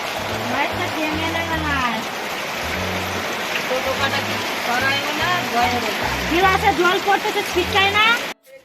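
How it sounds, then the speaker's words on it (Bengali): Heavy rain pours in a steady rush, with a rhythmic music beat and a voice talking over it close by. "খুবই খুব জোরেই বৃষ্টি হচ্ছে দেখাচ্ছি তোমাদেরকে"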